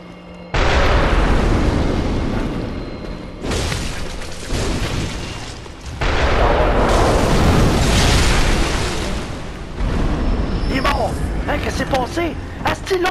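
A cannon blast in the video game Bloodborne erupts as a loud, sustained explosive roar with rumbling bursts that surge and fade, while a player talks excitedly over it.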